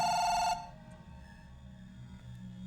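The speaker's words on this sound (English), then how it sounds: "Different phone noise." A different phone in a Chinese horror video game gives a brief loud electronic ring, then cuts off and leaves a low hum and faint ambient noise. No voices are heard.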